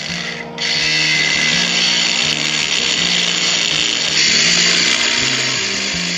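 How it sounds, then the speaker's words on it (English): Power tools whine and grind steadily during repair of a CV joint on a Toyota Hilux at a camp in Dargo, in Victoria's High Country. The noise is loud, continuous and close, with shifting lower tones beneath it and no speech. "We awoke to the sounds of kookaburras and galahs and angle grinders."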